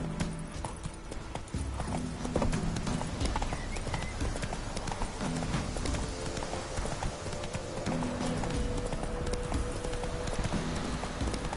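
Geralt's horse Roach galloping in The Witcher 3, a continuous rapid clatter of hooves over a dense game soundscape, with faint voices and music underneath.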